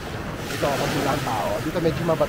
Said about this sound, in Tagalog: ingay ng alon ng dagat.